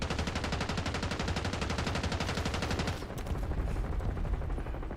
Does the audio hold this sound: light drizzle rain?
no